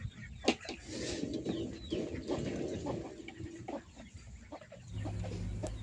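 Native chickens clucking at close range on a farm that also keeps Muscovy ducks, with repeated clucks and short calls over a steady background of rustling, continuous through the clip with no talk.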